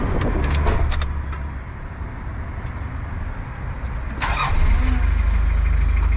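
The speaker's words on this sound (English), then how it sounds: "My first time starting a Delica, my first time even being in a Delica." A Mitsubishi Delica diesel engine cranks briefly after a jangle of keys and fires up at once, settling into a loud, close, rough idle that swells near the end; no talking.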